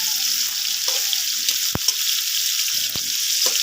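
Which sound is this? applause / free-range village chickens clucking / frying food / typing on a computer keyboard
frying food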